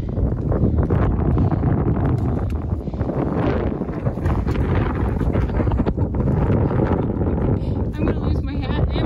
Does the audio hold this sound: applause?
no